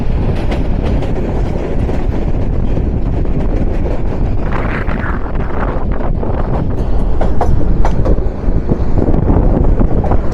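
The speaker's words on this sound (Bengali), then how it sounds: "সেই সাথে আমাদের সাথে ক্রসিং হচ্ছে ঢাকা থেকে সিলেট অভিমুখী আন্তনগর জয়ন্তিকা এক্সপ্রেস ট্রেনের সাথে" The Jayantika Express intercity from Dhaka to Sylhet passes on the line near Brahmanbaria, heard from the roof of a moving commuter train as a loud, continuous rumble and rattle with heavy wind buffeting the microphone, swelling toward the end.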